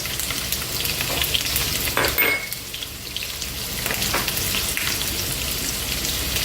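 Onion, garlic and dried red chillies sizzling steadily in a hot pan for a Tirunelveli black urad dal rice dish, with a brief clatter of stirring midway and no talk over the frying.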